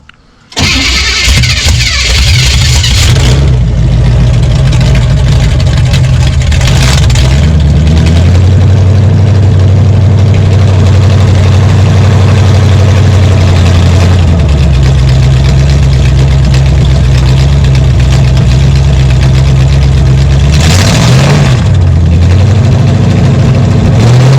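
A demolition derby car engine cranks and catches, then settles into a loud, steady rumbling idle with a couple of brief revs along the way.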